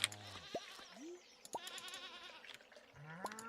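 Goats bleat in the Stardew Valley farm game, several short wavering calls rising and falling across the clip over soft background game music, fairly near and clear.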